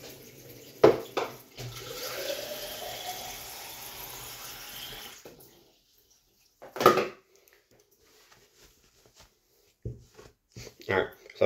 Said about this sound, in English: we're gonna fill up the cup, put some ice in, and try the flavor.